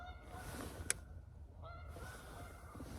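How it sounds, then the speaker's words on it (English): Faint goose honks sound a few times in the distance over a low outdoor rumble, with one sharp click partway through. "Geese."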